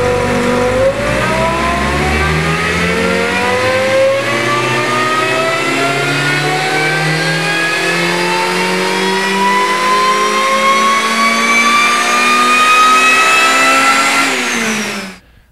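A supercharged Honda Civic Si runs on a dyno, its engine loud and close as it revs in one long continuous pull with steadily rising pitch for about fifteen seconds before cutting off abruptly.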